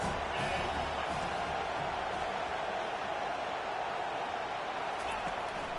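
Steady roar of a stadium crowd in a football video game, a loud, continuous wash of cheering and noise that holds evenly throughout, with commentary-like voices mixed underneath.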